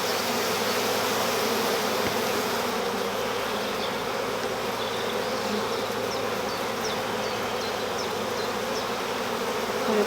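Honeybees from a full hive drone in a dense, continuous buzz throughout a hive inspection, steady and close, with faint high chirps.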